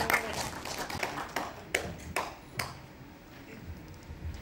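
Scattered claps ring out at a literary award ceremony and book launch, a few distinct sharp hand strikes spaced irregularly over a quiet, roomy background.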